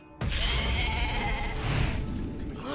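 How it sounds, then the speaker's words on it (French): A goat gives one long, loud bleat close by that starts suddenly and trails off, with a second animal bleating faintly partway through. "Il y avait plein de chèvres."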